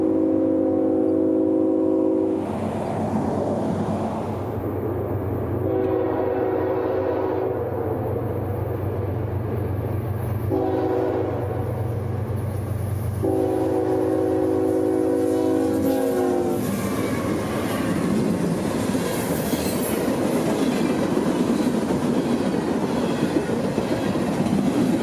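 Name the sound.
train passing with muffled horn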